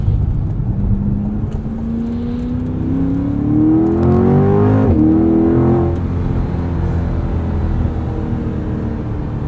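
Mid-engine Corvette launching hard on a wet road under launch control, engine revving loudly and pitch climbing steadily through a gear change near the middle, with road and tire noise underneath and no one talking.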